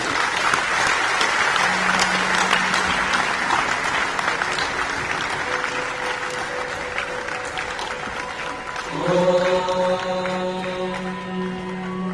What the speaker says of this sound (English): May I invite Puja Mahant Swamiji amidst a thunderous applause from all of you